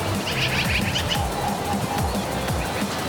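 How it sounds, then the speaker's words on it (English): Many birds chirp and twitter over a dense, noisy outdoor background. "It's a lot of birds."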